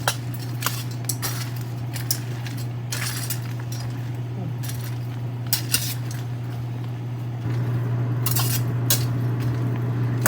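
Bagged stuffing is stirred into a Thanksgiving dressing in a bowl with a spoon, producing irregular clinks and scrapes against the dish over a steady low hum, close and moderately loud.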